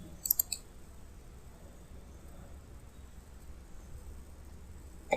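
A computer mouse gives a quick cluster of sharp, faint clicks early on, then another click at the very end, over quiet room hiss during an MS Word lesson.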